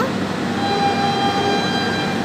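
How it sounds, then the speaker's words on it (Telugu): An LHB-coach train rumbles past nearby, overtaking, with a steady, loud roar and a faint high whine running through it. "ఈ ట్రైన్ ఓవర్టేక్ చేస్తుంది"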